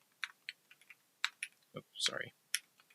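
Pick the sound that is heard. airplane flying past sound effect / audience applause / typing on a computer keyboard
typing on a computer keyboard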